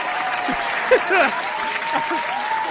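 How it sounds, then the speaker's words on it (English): Steady applause from a crowd fills the clip, with a few voices and whistles rising faintly above the clapping. "Round of applause."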